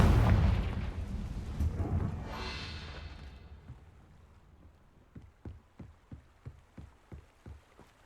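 A Confringo blasting spell explodes in Hogwarts Legacy: a loud, rumbling blast that decays over a few seconds, followed by a series of smaller crackling pops at a steady rhythm.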